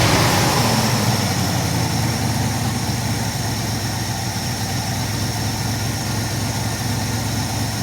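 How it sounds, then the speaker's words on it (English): Old car engine, abandoned for 29 years, idling loudly and steadily up close with a constant low rumble and vibration throughout, no voices. "This idles right down nice."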